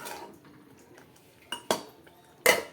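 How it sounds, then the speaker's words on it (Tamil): Spicy onion thokku of small and large onions is stirred in a pan, with soft scraping under a few sharp metallic clinks of a spoon against the pan, close by and fairly quiet. "அப்பப்போ திறந்து பார்த்து இதை நல்லா கலரிக்கணும்"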